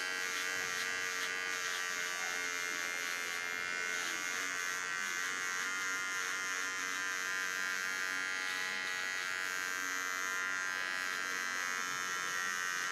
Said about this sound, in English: When you lay a small clipper flat on the skin, you always get nice sharp lines.